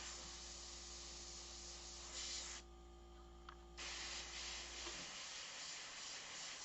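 An airbrush sprays paint onto a portrait in quiet hissing bursts, with a brief pause mid-clip before the spray resumes, over a low steady background hum that cuts out near the end.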